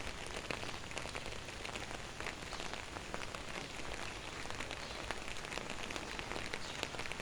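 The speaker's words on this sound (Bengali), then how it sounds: "আজকে বরিশালে প্রচুর বৃষ্টি হচ্ছে।" Heavy rain pours down steadily in Barisal, a dense, even hiss of drops striking surfaces that continues without a break, with no voices over it.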